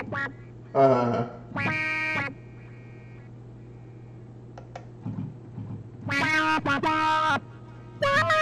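Duck quack synth voice played on a Yamaha DGX-670 keyboard, several bright, buzzy, pitched quacks sounding in short bursts and held notes over a quiet sustained backing tone, with gaps between phrases.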